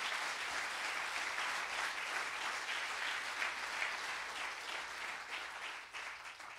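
A Christian church congregation at a Spanish-language service bursts into sustained applause, dense and even across the room, continuing strongly with slight swells before easing a little near the end.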